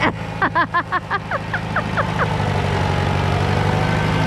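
On a farm, a tractor engine runs with a steady, loud, low drone that continues throughout, while a string of short, high, chirping sounds repeats rhythmically over it in the first two seconds.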